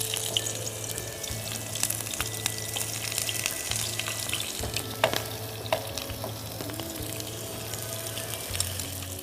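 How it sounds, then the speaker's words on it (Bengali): Chopped onion frying in a pan, a continuous sizzle and crackle with occasional clinks and a low rhythmic hum in the background. "এখন পেঁয়াজ কুচি দিয়ে দিচ্ছি।"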